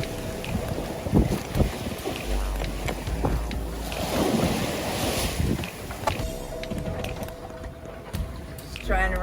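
Boat motoring head-on into big waves and heavy chop, with wind buffeting the microphone, water slapping and sloshing loudly against the hull, and people talking over the steady roar.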